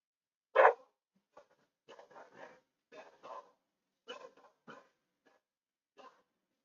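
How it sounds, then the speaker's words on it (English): A dog barks a loud opening bark, then a string of quieter, scattered barks and yips spaced through the clip, faint and somewhat distant, with no talking. "Really don't need the dogs right now."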